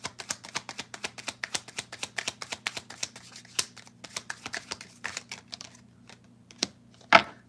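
Tarot cards being drawn and shuffled, a fast run of crisp riffles and slaps close by, thinning out toward the end with a few sharper card snaps.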